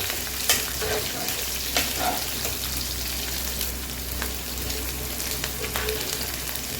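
Asafoetida frying in oil for a lime pickle being stirred in a pan, a steady low sizzle with soft scraping stirs and occasional light pops, no talking.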